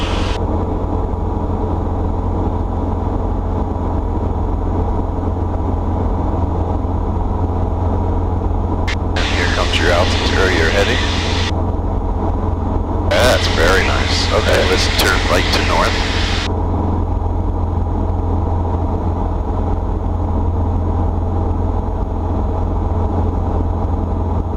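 A light airplane engine drones steadily in flight, loud and constant throughout, with radio or intercom talk heard over it in two short bursts.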